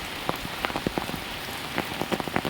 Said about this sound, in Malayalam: മഴ ഭയങ്കര അതിഭീകരമായ മഴയാണ്